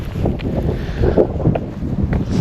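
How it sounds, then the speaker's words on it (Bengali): Strong gusty wind blows outdoors, rumbling loudly against the microphone in uneven surges with faint footsteps beneath. "অনেক বাতাস।"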